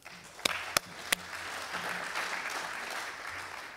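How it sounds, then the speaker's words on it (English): An audience applauds panelists at the close of an aviation workshop at an innovation fair: a few sharp, loud, close claps open, then a steady, moderate wash of many hands clapping together continues. "Please let us give them a round of applause."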